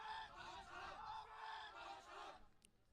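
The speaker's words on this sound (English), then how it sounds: "We can hear the Germans cheering on." German supporters cheering at a youth archery individual final, a crowd roar of voices swelling in waves for about two seconds before cutting off, fairly distant and faint.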